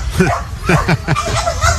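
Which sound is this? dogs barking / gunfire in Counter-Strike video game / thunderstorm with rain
dogs barking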